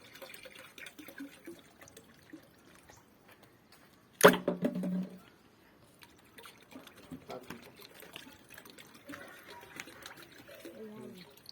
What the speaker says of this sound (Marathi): या पाण्यामध्ये आपण हे गोकुपा अमृत टाकत आहोत